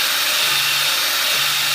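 Steady high-pitched whir of a power tool sanding and polishing worn metal, a continuous close grinding hiss with no pauses and no voices.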